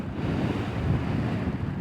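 Strong wind buffets the microphone beside a river with a continuous low rumble, steady and close throughout.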